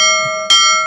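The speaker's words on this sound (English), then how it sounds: "that's a very impatient ship bell today" A ship's bell sound effect rings out loud and close, its sustained metallic tone struck again about halfway through for a second bright clang that keeps ringing to the end, with no voices.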